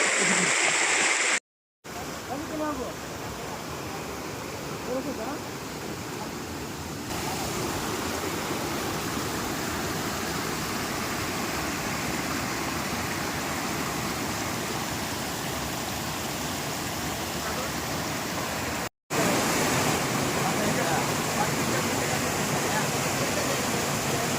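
Steady, broadband rushing water from a hillside waterfall on Udayagiri hill, heard up close, continuing without a break apart from two very brief dropouts.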